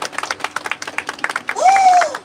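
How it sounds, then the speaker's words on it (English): A small audience at a Universal Studios tour claps in quick, uneven bursts nearby, followed by a voice rising into a sustained cheer at the end. "Should we clap for him?"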